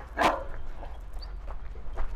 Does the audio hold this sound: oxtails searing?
no